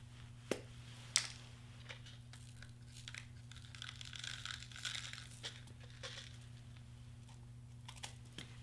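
Light crinkling and rattling of sequins against stiff acetate sheet, sparse and quiet, with a couple of sharper taps and a low steady hum beneath.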